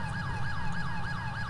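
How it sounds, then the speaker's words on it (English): Wailing police sirens in the video game GTA 5, with several sirens rising and falling in steady, repeating sweeps over a low engine rumble, continuous and fairly loud throughout. "Do they know how to shut off their sirens?"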